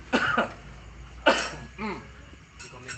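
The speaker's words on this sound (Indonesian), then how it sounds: "Maaf, batuk lagi." Two harsh coughs, one right at the start and another just over a second later, close to the microphone, followed by a brief murmur of speech.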